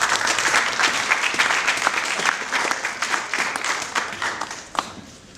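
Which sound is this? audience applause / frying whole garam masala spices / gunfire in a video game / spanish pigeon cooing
audience applause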